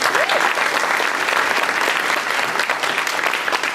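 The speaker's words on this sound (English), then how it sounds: "give them a round of applause" Sustained applause from a large crowd at a political rally, steady and loud throughout, a dense wash of clapping with no pauses.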